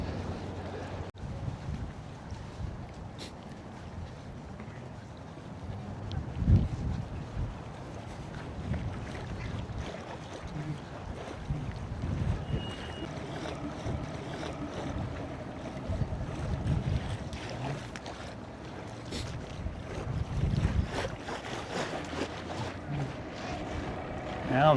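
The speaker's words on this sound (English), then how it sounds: "Well, there goes the tiny boat." A small panfish boat motors past on the Wolf or Fox River near Fremont, its faint engine drone swelling and fading beneath gusty wind noise on the microphone.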